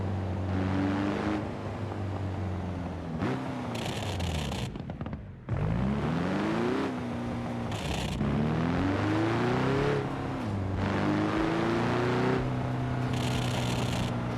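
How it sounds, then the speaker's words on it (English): Porsche 930 with a 4.0 engine, freshly rebuilt and on its first drive in BeamNG.drive: a loud, continuous engine drone that revs up in rising sweeps, cuts off sharply around the middle, then climbs again through repeated gear pulls. "The first drive in the Porsche 930."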